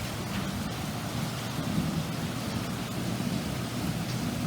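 Steady rain falls after a hailstorm stops, a constant dense hiss of drops spread evenly across the whole clip with no voices.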